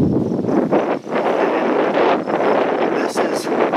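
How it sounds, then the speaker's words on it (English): Outdoors beside an off-grid cabin, wind buffets the microphone in a loud, continuous rumbling roar that swells and dips in gusts, with a brief lull near the middle. "Let's get a little windy here"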